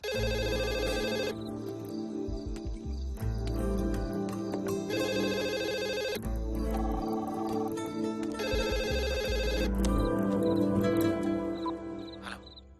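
A landline telephone rings in repeated electronic bursts over a steady musical backing, loud and continuous with brief pauses between rings.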